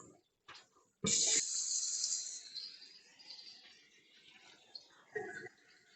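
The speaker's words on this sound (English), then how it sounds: "We're basically just rinsing them off and restarting." White worms being rinsed under a running tap, with a burst of gushing water that settles into a steady trickle and a brief second splash near the end.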